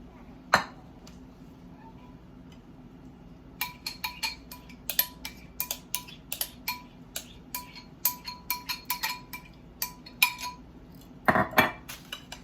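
Utensil clinks and scrapes against a bowl as crab cake mixture is stirred together, a quick sharp tap near the start, then a steady run of clicking strokes and a louder clatter near the end.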